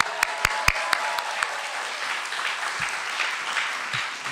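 A storytelling event audience applauds people from Detroit, opening with a few sharp, close claps that quickly blend into a sustained round of crowd clapping which carries on evenly.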